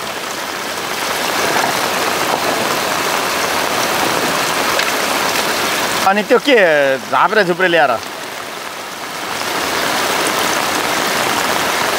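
Clear spring water at the Bhalu Khola stream source, beside a cardamom field, rushes in a steady, loud broadband wash. Someone speaks briefly over the flow partway through, then the water continues alone.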